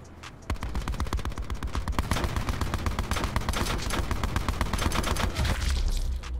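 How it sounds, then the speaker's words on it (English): Light machine guns rattle in Call of Duty Black Ops 4 with long, rapid, unbroken bursts of gunfire, loud and dense, overlapping shots from several weapons without talk. "Just shoot at it with your LMGs, guys."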